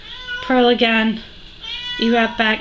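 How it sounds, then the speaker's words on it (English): A newly adopted house cat meows loudly and close in two pairs of drawn-out, wavering cries while someone talks through knitting instructions for a child's summer poncho. "And I apologize if you hear my cat meowing."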